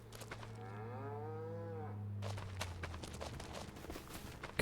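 A cow in the video game Farming Simulator 25 lets out one long, wavering moo, followed by scattered clopping hoof steps and livestock movement, with no talking.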